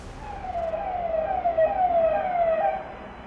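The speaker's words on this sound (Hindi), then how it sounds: "पीछे से पुलिस की गाड़ी भी सायरन बजाते हुए गुजरती है।" A police car passes with its siren wailing in rising and falling sweeps. It sounds moderately loud on a street, over a low road rumble, and no one talks over it.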